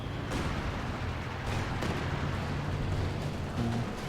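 Explosions from a mortar half-track being destroyed in the strategy game Company of Heroes, heard as rumbling booms and bursts of battle noise, fairly faint and continuous.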